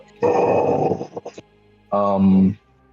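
A human voice imitates a low, rough dog growl during a tabletop roleplaying game, in two bursts: a longer rumbling growl, a few short grunts, then a second shorter growl.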